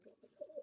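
Pigeons kept in a cage coo softly, a few low murmuring calls in quick succession, faint and close with no other sounds around.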